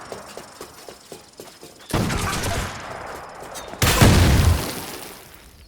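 Combat from the Assassin's Creed Shadows video game as an archer shoots from above: a run of sharp, evenly spaced shots, then two loud, sustained bursts of impact and clatter close up, with no talking.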